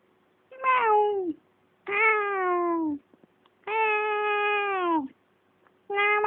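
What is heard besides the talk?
cat meowing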